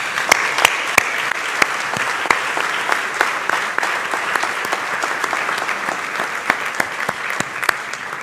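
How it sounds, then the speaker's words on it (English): An auditorium audience at a medical college white coat ceremony applauds steadily, a dense bed of clapping with sharper individual claps standing out near the front. "I want to give them a special round of applause."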